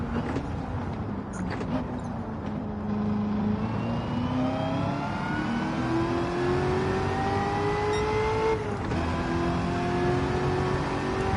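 Gran Turismo 7 race car engine revving steadily in-game, a continuous droning roar whose pitch climbs, dips and rises again with gear changes, loud and close throughout.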